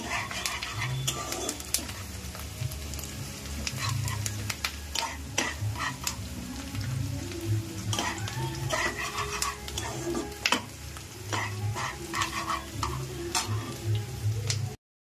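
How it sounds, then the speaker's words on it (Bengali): Onions frying in a pan for a Bengali mutton curry, with steady sizzling and scraping, clinking stirs of a utensil against the pan running throughout, loud and close. "ভাজা ভাজা হয়ে এলে পেঁয়াজগুলো"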